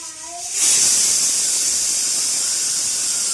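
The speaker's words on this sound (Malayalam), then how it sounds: "അപ്പം നമ്മൾ വീണ്ടും അടുപ്പത്ത് വെച്ച് വിസിലടിക്കുന്ന സൗണ്ടാണ് കേൾക്കുന്നത്." A pressure cooker holding beef curry on the stove lets out a loud, sustained steam whistle that jumps in after a brief tonal squeal and then hisses on without a break.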